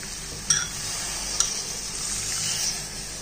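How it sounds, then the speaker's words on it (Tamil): Butter soya, boiled peas and potato being stirred together in a pan for kambu dosa, a steady soft mixing and scraping with two sharper clicks of the utensil, close and without talk. "எல்லாத்தையும் நல்லா மிக்ஸ் பண்ணிக்குவோம்."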